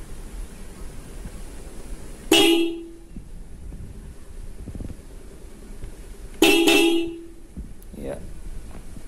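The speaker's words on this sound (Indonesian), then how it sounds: "kita tes untuk tombol yang sensor sentuh atau klakson yang double disc tadi" Two loud, short honks from a Hella Compact dual-disc horn on a Honda Supra X 125 motorcycle, a few seconds apart, over faint background noise.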